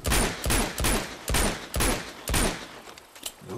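Rapid bursts of gunfire from the video game Uncharted 2: Among Thieves, four loud volleys in quick succession with short gaps between them, then a few scattered fainter shots.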